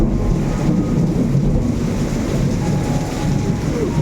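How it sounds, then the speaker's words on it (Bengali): Thunder rumbles low and heavy through a downpour of heavy rain, a continuous loud roar of rainfall with deep rolling booms, close and steady throughout with no talk. "মেঘ ডাকছে।"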